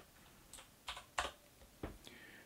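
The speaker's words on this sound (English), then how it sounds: "mechanical Razer keyboard making a massive racket every time I press buttons" Sharp, close clacks of a mechanical Razer keyboard, a few separate keystrokes in an irregular rhythm over a low room hum.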